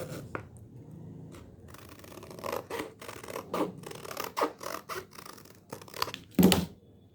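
Scissors cutting a paper stocking shape along a drawn line, a series of close, quiet snips and rustles of paper, irregular in rhythm and with no speech.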